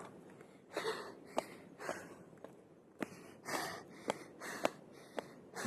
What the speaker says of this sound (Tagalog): Hinihingal na talaga ako.